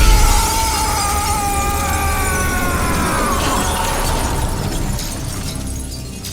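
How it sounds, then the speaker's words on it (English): Glass smashes during the final fight between Makarov and Captain Price in Modern Warfare 3, a loud shattering crash with tinkling shards and ringing debris that trails off over several seconds, mixed with game effects. "They get in the fight, they smash through the glass."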